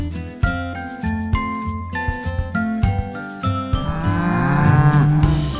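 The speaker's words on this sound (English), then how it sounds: "The Simmental cattle breed originated from Switzerland and has since grown to become one of the most dominant dual-purpose breeds" Simmental cattle, a Swiss dual-purpose breed, moo in several loud, drawn-out calls, one after another, with a faint jingle between them and no talking.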